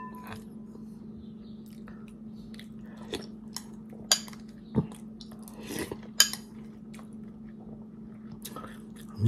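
Crispy scorched rice is chewed and swallowed at close range, with quiet crunching and soft bites spread unevenly through the clip over a steady low hum, plus occasional clicks of utensils.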